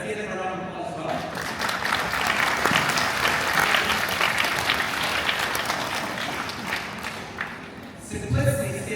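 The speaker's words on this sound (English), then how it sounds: "Let's give him a round of applause as well" A large conference audience in Macau claps in a sustained, loud round of applause that fills the hall for several seconds, with a voice speaking over the start and end.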